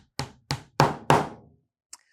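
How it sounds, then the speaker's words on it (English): A hammer taps a wooden dowel into a drilled hole in a wooden piece: four sharp, close knocks, the last two heavier and ringing longer, then a small faint tap. "hold it in place and tap it with my hammer until it's fully set into the hole"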